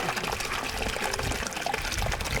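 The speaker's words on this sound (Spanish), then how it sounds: "Estas son aguas puramente salida purificada por el manantial" Spring water pouring steadily from a mountain source, a continuous close rushing and splashing flow with no talk over it.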